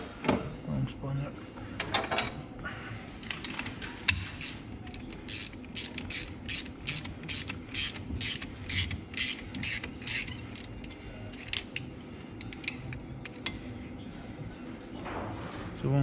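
Long spanner working on a Bomford tri wing clutch, a run of rapid metallic ratcheting clicks in a steady rhythm with creaks and clanks before and after, close up.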